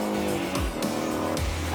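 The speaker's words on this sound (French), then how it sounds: "Belle journée en piste comme ça brûle pas mal de pneus" A Ford Mustang GT350 on a race track squeals its tires through repeated hard cornering, loud and close, with the engine roaring and dropping in pitch between the bursts of tire squeal.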